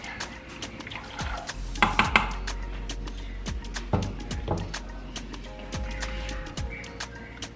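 Thick ogbono soup stirred in a pot: a run of close, soft scraping and knocking strokes, with clicks and clatters at uneven intervals and a low rumble underneath.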